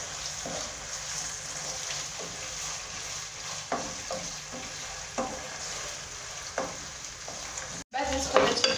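Chicken liver frying with onions in a pan, a steady close sizzle broken by occasional scrapes and stirring knocks, ending with a brief burst of louder clatter.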